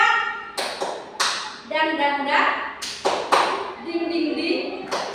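A teacher at an elementary school leads the tepuk semangat clapping game: sharp hand claps and taps in short rhythmic groups, separated by chanted and spoken voice.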